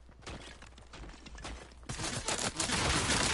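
Fortnite gunfire, a scattered crackle of shots that thickens into a denser, louder volley toward the end, fairly distant and low in level.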